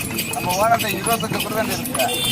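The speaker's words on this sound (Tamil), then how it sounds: "குதிரை வண்டி பயணம் வந்து நடப்பில் உள்ளது வந்து அநேகமாக பழனியில் தான்" Horse hooves clip-clop in a quick, steady rhythm as a horse pulls a cart in Palani, loud and close, while people talk over them.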